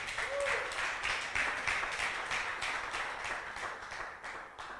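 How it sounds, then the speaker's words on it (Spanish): Congregation at a Christian church service applauding together, a sustained wash of dense clapping from a large crowd, steady and fairly loud throughout. "Un aplauso para el Señor."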